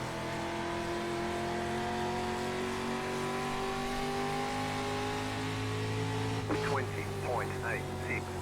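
Street stock race car engines at Myrtle Beach in iRacing drone in a steady, continuous roar as a pack of cars circles the oval. Their pitch slowly climbs, and a brief rise and dip near the end sounds like revving.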